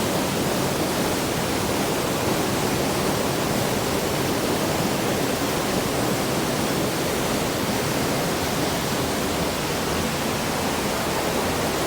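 Heavy river flow pours at Hogenakkal falls in flood, a dense, constant roaring rush of water, loud and unbroken, with no voices.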